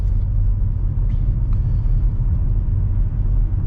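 Car driving past in traffic, a steady low road rumble with tyre and engine noise heard from inside a vehicle, no voices.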